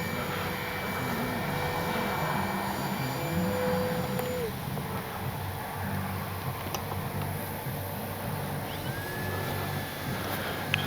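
A radio-controlled Kavan Bristell B-23 model airplane takes off and flies, its engine a faint, steady, distant drone with a wavering pitch running throughout.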